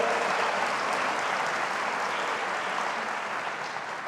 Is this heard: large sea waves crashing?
no